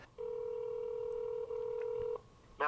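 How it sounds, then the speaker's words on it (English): Telephone keypad tones sound while a call is placed to the local National Weather Service office: a long steady dial tone that briefly dips midway, then a short beep at the end, heard clearly on its own. "give a phone call over to the National Weather Service locally"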